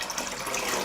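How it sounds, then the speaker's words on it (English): Water poured into a cooking pot, a brief steady gushing splash at close range, heard alone. "I will pour water into the pot."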